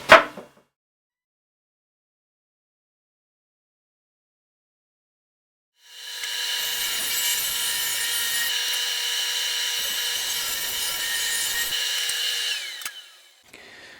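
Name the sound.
saw ripping cedar slats and cutting them to length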